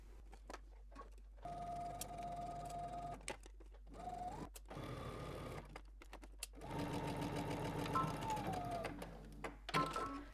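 A home sewing machine stitches a garment pocket closed in short bursts of close, whirring motor hum broken by pauses, with soft clicks and handling noises between runs.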